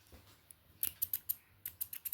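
Wire cutters snip repeatedly at close range, a quick series of crisp metallic clicks that come in two irregular bursts with a short pause between them, alone against a quiet background.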